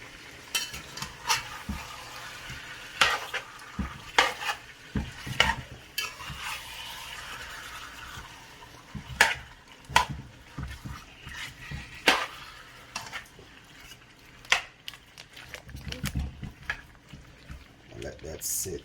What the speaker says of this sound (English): I'm just gonna give my pot a little stir.